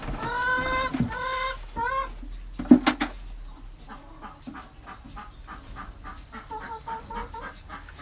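Chickens clucking and squawking close by, a rooster-like call at the start, then scattered soft clucks with a sharp noise in between.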